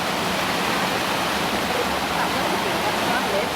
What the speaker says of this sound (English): you've got the one with the water run through the middle